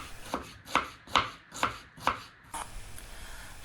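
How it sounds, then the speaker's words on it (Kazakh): A knife chops onion on a board in five or six sharp, evenly spaced strokes, close and clear, followed by a quieter pause and a faint tap. "Пиязды видеодағыдай етіп турап дайындап аламыз"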